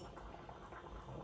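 Something boiling in a pot on the stove gives a faint, steady bubbling hiss, close by and quiet, with no voices.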